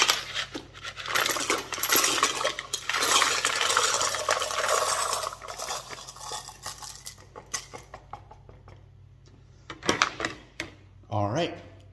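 Tumbled rocks pour and rattle into a Lot-O tumbler barrel in a dense clattering rush, then thin out into scattered clicks and individual stone knocks, with a person speaking briefly at the end.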